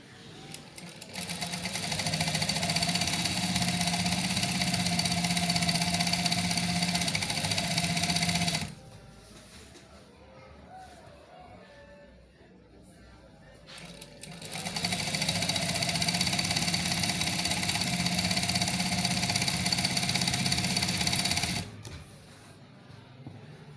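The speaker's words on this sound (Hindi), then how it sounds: "पैंट वाली सिलाई साइड पे जो आती है वो वाली सिलाई लगा रही हूँ अब दूसरी साइड पे।" A tailor's sewing machine stitches the side seam of a pair of pants, running in two long steady whirring bursts with a quiet pause between them.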